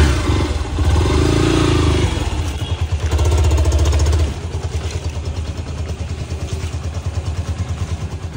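A motorcycle engine fires up and settles into a steady, close idle with rhythmic clattering pulses, loud and running alone without talk.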